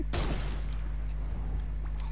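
Gunfire in Fortnite: a sharp loud shot cracks out near the start, followed by a rapid scattered burst of quieter reports over a steady low hum, with no talking.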